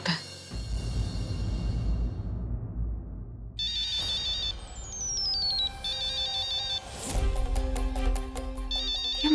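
A phone rings with an incoming call in a Hindi TV drama scene. A bright, melodic electronic ringtone repeats in bursts over a low, steady background and grows fuller toward the end.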